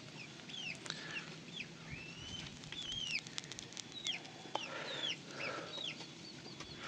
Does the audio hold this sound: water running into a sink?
no